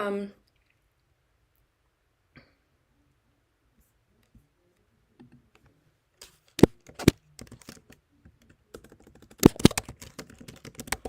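Typing on a computer keyboard to send a chat message during a live stream, with scattered key clicks at first, then quick bursts of clattering keystrokes building toward the end, close and fairly loud. A voice is heard briefly at the very start.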